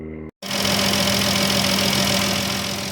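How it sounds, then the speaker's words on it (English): The engine of a 2013 Chrysler Town and Country, just fitted with a replacement alternator and belt, starts after a brief cut and idles loudly and close with a steady, even hum and whine. "Alright, we got it running. Alternator's back in, belt's back on."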